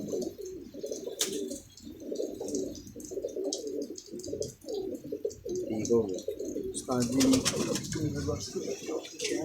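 Several pigeons in a coop after rain give repeated low, rolling coos in uneven bursts near the microphone, while someone talks intermittently over them.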